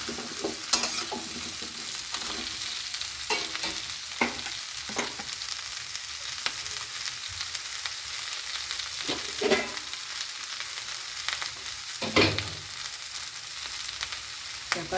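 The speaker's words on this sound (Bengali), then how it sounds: "এবারে ভালো করে নেড়ে নেড়ে ভাজতে থাকবো।" Mixed vegetables for Bengali shukto frying slowly in oil over a low flame, a steady soft sizzle broken by irregular scrapes and clinks of a spatula stirring in the pan.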